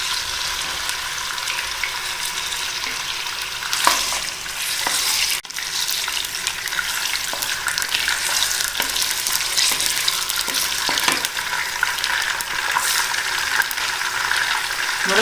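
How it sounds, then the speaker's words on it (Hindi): Bone-in chicken fries in ghee heated over a medium flame with a loud, continuous crackling sizzle, dotted with clicks and scrapes from stirring, and no voices. "यह हमने मीडियम फ्लेम पे घी गरम कर लिया है। गोश्त ऐड करने जा रहे हैं घी में।"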